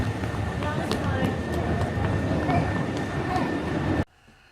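A steady, loud rumble of a Seattle light rail train in motion with rattling and a high whine, stopping abruptly near the end.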